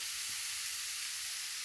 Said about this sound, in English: you can hear the sizzling sound, eh? That means it's a nice cooking